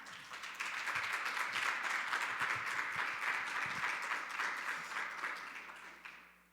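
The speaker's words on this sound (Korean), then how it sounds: "큰 박수로 맞아 주시기 바랍니다." Sustained applause from a church congregation at a Holy Week special dawn prayer service, steady and dense for about six seconds before tapering off at the end.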